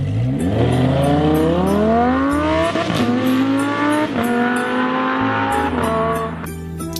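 Game car engine revving and accelerating away in a Free Fire mobile game scene, loud and sustained with rising engine pitch and tire squeal, over background music.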